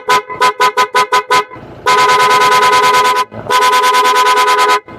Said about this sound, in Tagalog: Then yung loud horn.